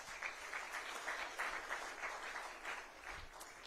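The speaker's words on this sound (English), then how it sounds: "Can we clap our hands?" A crowd at a technology stakeholders' conference in Dar es Salaam claps continuously, a dense patter of many hands, fairly distant and steady throughout.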